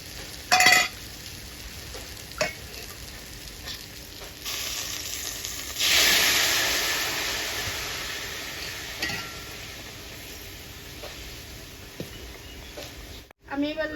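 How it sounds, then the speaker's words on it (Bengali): Hot water goes into a pan of fried spice paste for a fish and eggplant curry. A loud hissing burst erupts and slowly dies down, with sparse utensil clinks and kitchen noise before and after. "এবার এতে আমি গরম জল দেব,"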